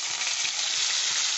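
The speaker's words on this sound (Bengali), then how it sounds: "আর এটা দিয়ে আমি একটু জল দিয়ে দিচ্ছি" Water poured into a pan of frying ground spices (coriander, cumin, Kashmiri chili powder and turmeric) for matar paneer, producing a loud, steady hissing sizzle throughout.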